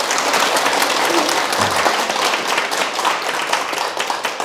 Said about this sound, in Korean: 처음 오신 분에게 큰 박수 부탁드립니다